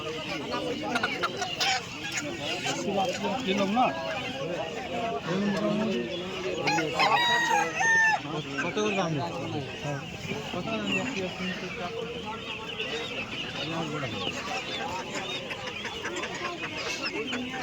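Chickens cluck and a rooster crows repeatedly at the Sukhbazar livestock market, the loud crows rising above constant crowd voices and market bustle.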